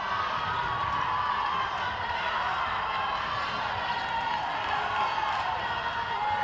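A crowd at a youth netball world cup match shouts and cheers continuously, urging on Botswana; a dense, sustained wall of voices with excited children's shouts, loud and close throughout.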